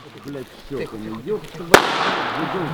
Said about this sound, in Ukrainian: Ще одна граната.